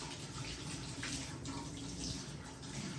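Warm water runs steadily from a tap in a clinical scrub sink before a surgical hand scrub, a continuous close hiss and splash without pauses or talk.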